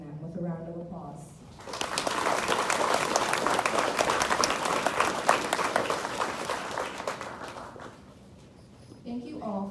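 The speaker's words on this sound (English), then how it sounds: "Please join me in thanking them with a round of applause." Audience at a National Junior Honor Society induction ceremony breaks into a full round of applause that swells, holds for several seconds and fades, with brief speech before and after.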